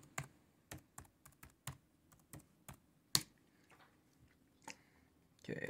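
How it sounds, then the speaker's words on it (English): Slow, irregular keystrokes tap on a computer keyboard during Linux setup, typed one-handed in sparse bursts of single clicks with quiet pauses between them. "It's hard to type with one hand."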